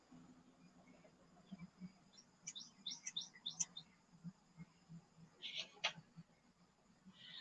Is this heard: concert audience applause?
no